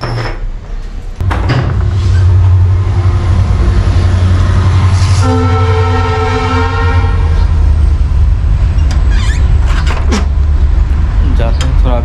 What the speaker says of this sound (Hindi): ट्रेन जा रही है वहां पे